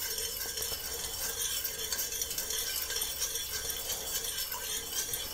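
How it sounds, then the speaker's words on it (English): Dye being stirred into water to dissolve it, a steady close scraping swirl with faint clinks of the stirrer against the container, continuous throughout with no voices. "So what I want to do is just mix it in."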